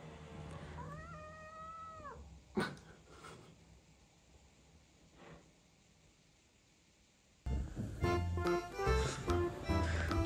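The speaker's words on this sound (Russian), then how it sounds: "Жирная кошка Матильда." A cat gives a drawn-out meow, followed by a few soft thumps and quiet, then a burst of louder rustling and clattering noise nearby.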